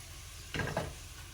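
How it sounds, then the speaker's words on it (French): Green beans sautéing in butter in a pan, with a short burst of stirring and sizzling that rises briefly over a quiet kitchen background. "Une fois que ça commence à crépiter, on mélange encore une deuxième fois, on les fait sauter."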